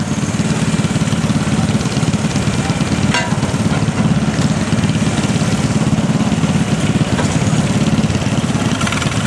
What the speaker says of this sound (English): All garden tractors